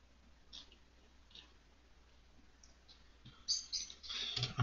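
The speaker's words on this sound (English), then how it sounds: "I'm gonna just right click here" Computer mouse clicks while working in Ansys Maxwell simulation software, a few faint sparse clicks in a quiet room, followed by a louder burst of handling clicks near the end.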